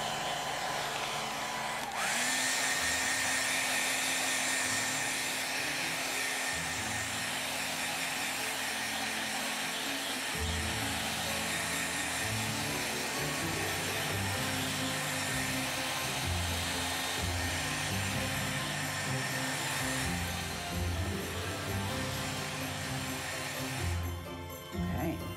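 A hair dryer blows steadily to dry paint on an artwork, a constant loud whoosh with low motor rumble lasting throughout, briefly changing pitch near the start and end.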